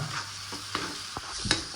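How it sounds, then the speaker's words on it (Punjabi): Spices for a tempering sizzle and fry in hot oil, with a few soft clicks of stirring in the pan. "ਤੁਸੀਂ ਦੇਖ ਸਕਦੇ ਆ ਸਾਡਾ ਤੜਕਾ ਭੋਜਨ ਨੂੰ ਰੈਡੀ ਆ ਭੁੱਜਦਾ ਪਿਆ ਵਾ"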